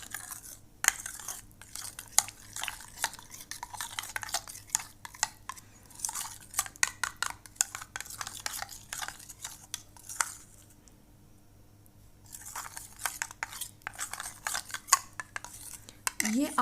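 Spoon stirring and mixing a homemade herbal skin care remedy in a small bowl, with rapid repeated clinks and scrapes, close up, pausing briefly midway before resuming.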